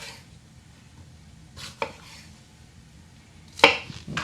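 A sharp knife cuts vegetables on a board: a few separate chopping strokes spaced out over a quiet background, the last one the loudest, with no talking.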